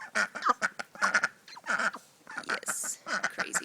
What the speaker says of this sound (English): She is a Muscovy duck